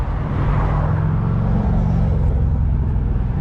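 A BMW M340 fitted with a catless downpipe roars steadily and loudly from close by, a heavy low engine drone sustained throughout with no talking.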